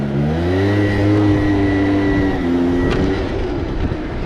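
Zuma 70cc scooter with a ported Polini Corsa big bore kit and new crank, its engine revving loud and close with rising and falling pitch before settling lower.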